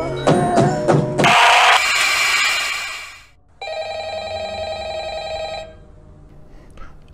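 Telephone ringing in the horror video game Five Nights at Freddy's: a loud electronic ring bursts out, stops for a moment, then starts again with a steady tonal trill that fades toward the end.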